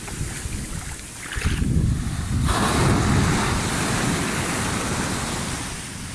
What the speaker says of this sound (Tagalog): Tingnan nyo ang alon, oh, malakas